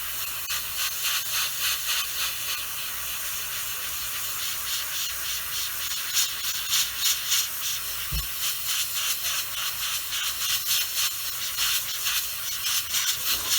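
An airbrush sprays paint onto a 1/72 scale Bandai X-Wing Starfighter model kit, a close, steady bright hiss with slight pulsing bursts and no talking.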